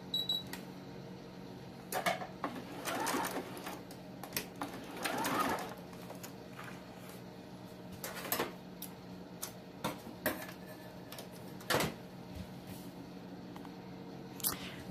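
A sewing machine runs straight stitches on fabric baby slippers, in several short, uneven bursts with brief pauses and small clicks between, fairly quiet against a steady room hum.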